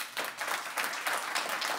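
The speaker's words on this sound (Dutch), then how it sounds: "mag ik graag applaus" Audience applause welcoming a guest researcher from the Netherlands Institute of Ecology onto a Dutch panel on water and the green transition; dense, steady clapping from a crowd, fairly loud and unbroken for about two seconds, with no talking.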